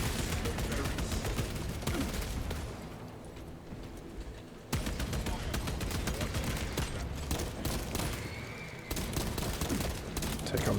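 Enemy gunfire in the video game Space Marine 2: dense, rapid bursts of shots and explosions, loud and continuous, with a brief lull in the middle before the barrage resumes.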